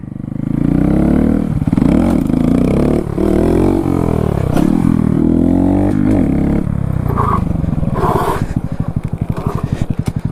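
Honda Grom motorcycle accelerating through its gears during street stunting, the engine revving up repeatedly in loud, close sweeps before settling into a rapid, chopping idle-like putter near the end.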